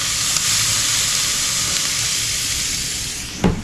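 Bacon frying in a pan on a stovetop, a loud steady sizzle and hiss running throughout, with one short sharper crackle near the end and no talking.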